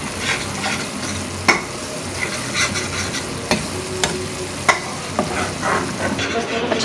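Grated raw mango achaar masala with ground roasted cumin cooks in oil, a steady close sizzle broken by repeated sharp scrapes of stirring.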